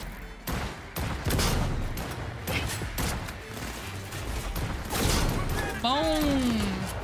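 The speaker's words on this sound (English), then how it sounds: "I would like to use my favorite sniper rifle." Sniper rifle shots in Cyberpunk 2077: Phantom Liberty, several heavy, sharp blasts spaced a second or so apart over game noise, followed by a descending electronic sweep near the end.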